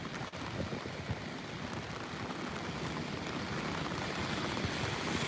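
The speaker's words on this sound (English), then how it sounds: "Oh crap, here comes the downpour," Heavy rain from Tropical Storm Fay pours down in New York, a dense, steady hiss of falling water that swells slightly louder as the downpour builds.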